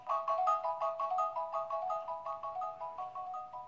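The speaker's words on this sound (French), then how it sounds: "comme vous le voyez, ma tablette, elle sonne" A tablet rings with an incoming call, a repeating electronic ringtone pattern of quick melodic notes played at moderate volume with nothing else heard.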